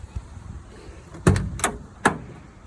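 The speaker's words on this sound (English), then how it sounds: "So I'll open the passenger door just so you can see" Passenger door of a Porsche 968 race car being opened: a quiet latch clack, then a couple of short mechanical clunks about half a second apart, close and fairly crisp against faint background noise.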